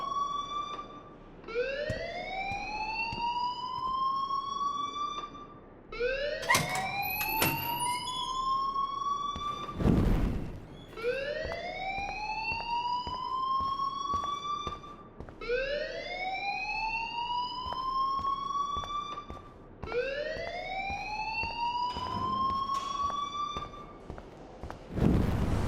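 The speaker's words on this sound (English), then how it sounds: "please turn off that alarm since that's your job" A rising and falling siren-like alarm wails in the video game Life Is Strange, repeating in steady cycles of about four seconds, loud and continuous, with a brief bell-like ring partway through.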